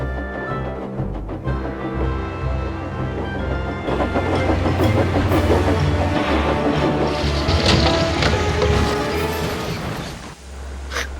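Steam locomotive running on rails in a dramatic cartoon-style scene, a loud, continuous rumbling chug with rhythmic clatter and low mechanical drone, building slightly before fading near the end.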